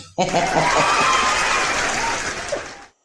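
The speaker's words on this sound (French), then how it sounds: "Est-ce qu'on peut applaudir pour moi?" A karaoke audience bursts into loud applause and cheering that starts abruptly, holds steady for a few seconds with shouts mixed in, then fades quickly to silence.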